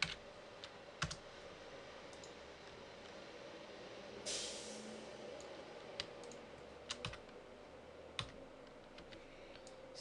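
Someone types on a computer keyboard in a quiet room. Sparse, faint key clicks come in small bursts with gaps between them, along with one brief whooshing sound partway through.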